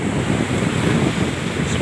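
Rough ocean waves pound Matras beach, where a boat was dragged off its embankment by the surf; a steady, loud, wind-blown roar of breaking water fills the whole stretch with no voices.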